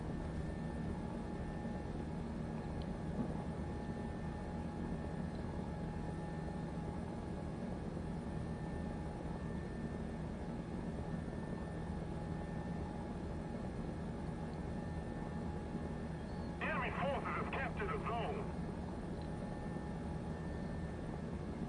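Aircraft engines in the video game War Thunder, a faint, steady droning hum that holds for the whole stretch, with a brief louder burst of noise near the end and no talk.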